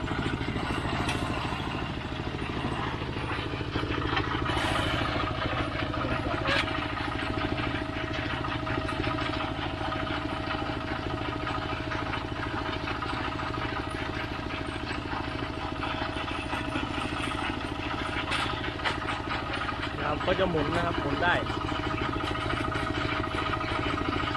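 A water-well drilling rig's heavy engine runs steadily at an even idle, a low continuous hum with faint clatter, fairly quiet and unbroken throughout.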